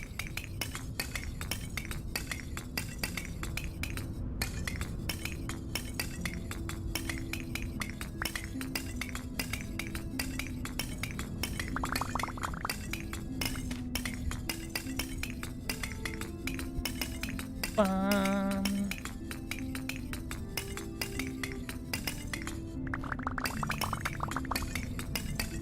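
Charcoal clinks and rattles down a chute in the Vintage Story video game, giving a steady crunchy stream of small hard clinks, with a brief louder chime partway through.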